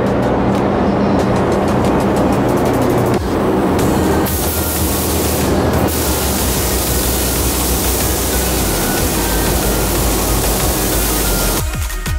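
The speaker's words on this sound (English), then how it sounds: "black is sprayed on. And now we're gonna put the clear" Spray gun laying clear coat over a carbon fiber car hood with black vents, a loud continuous hiss that runs nearly unbroken, with brief gaps and shifts as the spraying pauses and resumes.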